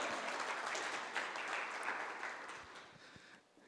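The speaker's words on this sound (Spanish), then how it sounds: "Dale un aplauso." A church congregation claps together in a dense, moderately distant wash of applause that fades gradually toward the end.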